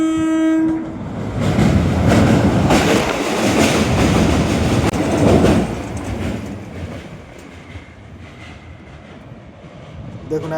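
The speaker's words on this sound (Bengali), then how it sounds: "ট্রেন এক নিমেষই ব্রিজ পার হয়ে চলে গেল" A train on the Tarkeshwar–Bishnupur line rumbles across the Dwarkeshwar rail bridge nearby with a short horn blast at the start, its clattering roar swelling then fading as it moves away.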